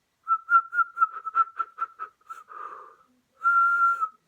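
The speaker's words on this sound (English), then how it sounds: "Yeah, I can whistle." A person whistles a short tune, a quick run of bright staccato notes, then a pause and one long sustained note, close and clear.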